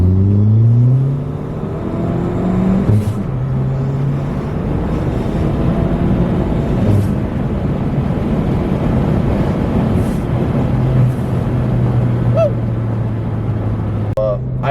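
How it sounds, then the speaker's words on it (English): A 2018 Ford Fiesta ST with a stage 2 setup rumbles loudly up close, its exhaust note rising and falling through several revs with a steady droning tone between blips. "Try and get a little clip of the exhaust right here."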